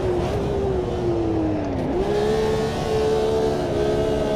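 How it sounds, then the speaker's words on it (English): Race car engine in the Automobilista 2 sim racing game revving through a botched downshift, a loud continuous whine that dips, then jumps back up and climbs steadily, with no talk. "That was a bit of a botched downshift."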